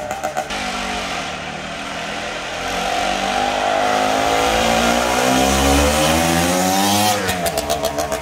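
A 1971 OSSA 250 TT scrambler motorcycle at speed, its engine note loud and steady, climbing in pitch as it rushes close past and then trails off, with no talking.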